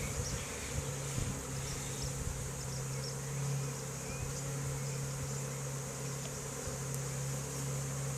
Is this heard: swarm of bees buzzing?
yes